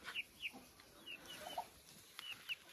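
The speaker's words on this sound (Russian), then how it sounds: "Вот таким образом можно кормить сразу 2 стада кур." Hens clucking in an outdoor run while being fed grass through a grate, several short calls scattered across the clip at moderate distance, no talking.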